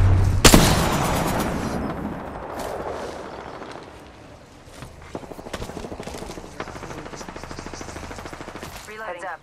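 Gunfire in the battle royale game Apex Legends: a sharp opening blast, then bursts of rapid automatic shots with a steady rhythm, mixed with game effects under a player's voice.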